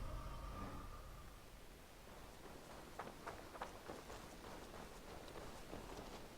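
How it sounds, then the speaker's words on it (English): Steady hiss of rain with scattered soft taps of drops in Assassin's Creed Valhalla, constant and moderately quiet, no voices. "No, it's raining."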